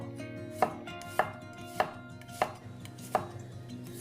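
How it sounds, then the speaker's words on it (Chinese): A knife slices garlic and minces small red bird's eye chili peppers on a cutting board, giving about seven sharp, evenly spaced chops close up. "把大蒜切成片，小米椒剁碎"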